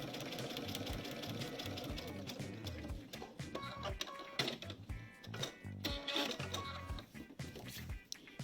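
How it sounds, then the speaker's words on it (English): A sewing machine with an open-toe foot stitches a quilt-as-you-go border seam. Its rapid, continuous needle chatter is close and fairly quiet, with short pauses and restarts in the second half. "I'm going to sew on line 3, and I can easily see where I'm sewing because I've got my open toe foot on."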